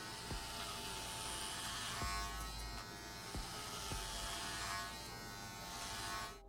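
Electric hair clipper fitted with a number 3 guard cutting a man's hair in a military-style cut, a steady close buzz throughout with faint snips of hair.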